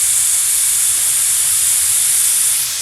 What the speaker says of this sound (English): You don't want to go too high because then all your liquid will come out as steam.